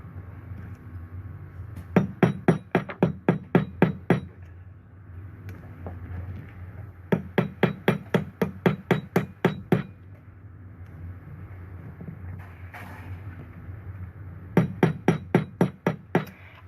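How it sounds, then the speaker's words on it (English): A hammer taps an aluminium rivet in three rapid bursts of sharp, ringing metallic strikes, each burst holding about eight to ten evenly spaced blows, close and clear with short pauses between. "I'm just going to do like a sort of like a double amount of tapping just to increase the size of the rivet"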